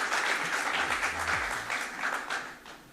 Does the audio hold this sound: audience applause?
yes